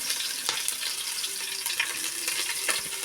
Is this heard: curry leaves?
yes